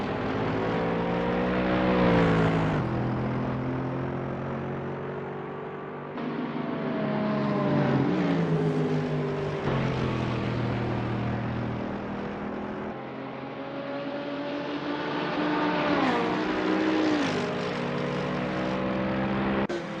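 GT3 race cars, among them a Mercedes SLS GT3, circulate Watkins Glen, engines droning steadily with pitch rising and falling as cars pass, loud and continuous over twenty seconds without talk.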